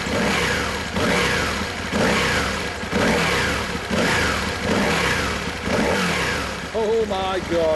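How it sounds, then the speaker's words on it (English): An Aprilia Tuono Factory's 997cc 60-degree V-twin, four-stroke, liquid-cooled and fuel-injected, revs hard in repeated sharp bursts up and back down, loud and close, with a brief falling whine at the end. "Oh my God, what explosive power, so fast revving"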